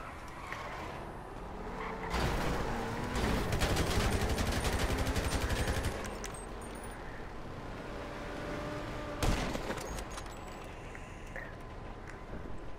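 Gunfire in a parkour video game, heard as a sustained rapid burst of automatic fire over steady game background noise, followed by a sharper single loud report later.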